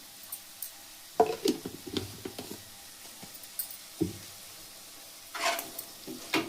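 Drumstick leaf (munagaaku) curry with chili powder being stirred in a pan, with soft sizzling and intermittent scraping clinks of a spoon, in short bursts separated by quieter frying.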